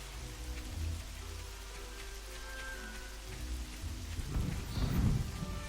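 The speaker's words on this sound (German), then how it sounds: "Schau, jetzt haben wir wenigstens Regentropfen am Boden." Soft, steady rain patters in the video game Fable, with a low rolling thunder rumble swelling near the end; the whole scene stays fairly quiet and distant, with no speech.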